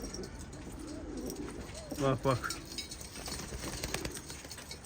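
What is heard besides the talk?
bird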